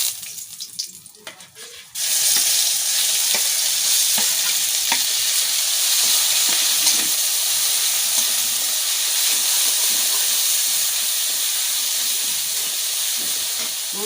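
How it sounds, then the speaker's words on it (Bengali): Bay leaf, dried red chili and black cumin sizzle loudly in hot oil in a home kitchen, a steady, dense frying hiss that starts abruptly after a brief quieter moment and continues unbroken. "তেজপাতা আর শুকনো লঙ্কা আর কালো জিরে ফোড়ন দিয়ে দিলাম।"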